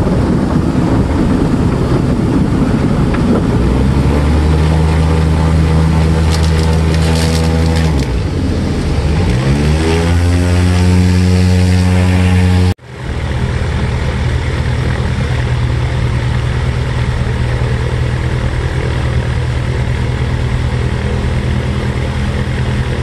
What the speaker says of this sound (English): a video montage of some of the other planes and seaplanes which dropped